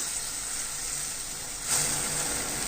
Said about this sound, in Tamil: ஒரு மீடியம் சைஸ் தக்காளி பழத்தை எடுத்து வதக்கி விட்டுக்கலாம்